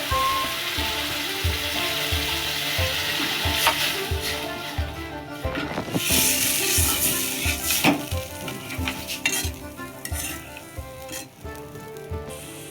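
Chili and water hit a hot pan while cooking a Bengali fish curry, raising a loud, continuous close sizzle with bursts of spitting and a rhythmic scraping of a utensil against the pan.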